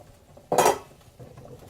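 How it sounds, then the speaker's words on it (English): Metal spoon scraping and clinking against a pot while potatoes are stirred during home soul-food cooking, one brief, fairly loud burst of stirring followed by quieter rattling. "And I'm going to stir my potatoes up."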